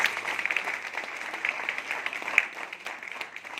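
Scattered, fairly faint clapping from a seated audience at a business meeting, with irregular individual claps spread over a few seconds.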